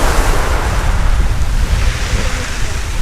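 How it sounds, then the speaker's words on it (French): Strong wind buffets the microphone over crashing surf on a stormy Spanish coast, a loud, continuous roar of rushing air and breaking waves close by. "Là il y a énormément de vent."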